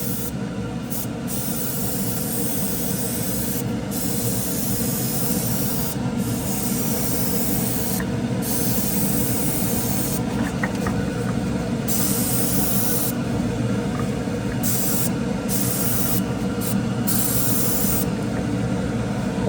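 A spray gun lays automotive 2K clear coat onto a model car body in a continuous loud, close hiss. Brief pauses between passes break the spray every few seconds.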